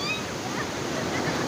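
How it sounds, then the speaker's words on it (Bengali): Ocean surf at Marina Beach in Chennai gives off a steady, broad wash of breaking waves with wind noise across the microphone, heard close and continuous. "ওই দেখো এই ঢেউগুলো দেখো"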